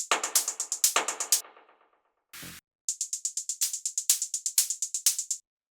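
Two synthesized hi-hats built in Ableton Operator play in turn: a ringing, decaying pattern first, then after a short noise burst and a pause a tight, crisp ticking sequence in steady sixteenths.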